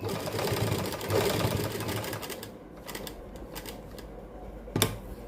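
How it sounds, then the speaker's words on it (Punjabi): Sewing machine running a seam along a marked line on cloth while making an arm (sleeve) design, a steady close mechanical whir for the first two seconds, then quieter pauses with a short clack near the end. "ਇੱਥੋਂ ਤੀਕ ਸਲਾਈ ਲੈ ਕੇ ਆਵਾਂਗੇ ਨਿਸ਼ਾਨ ਦੇ ਉੱਪਰ ਉੱਪਰ"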